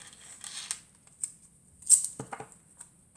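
Scissors cutting a strip of protective film in a card-making craft, several quiet, close snips and crisp rustles spread across a near-silent background.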